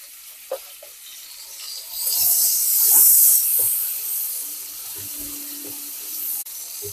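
Prawns hit hot oil in a pan, setting off a loud, bright hiss and sizzle that swells, then settles into a steady fry, with a few soft clinks and taps around it.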